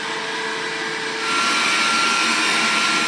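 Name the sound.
Dreame D9 Max Gen 2 robot vacuum running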